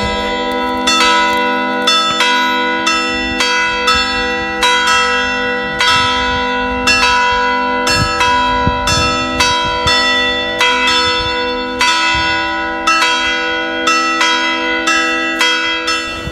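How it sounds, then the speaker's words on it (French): The church bells of Saint Georges church in Brassac ring loudly and steadily in a continuous peal, with repeated overlapping strikes and long ringing tones layered on top of one another. "Alors, les cloches s'y mettent."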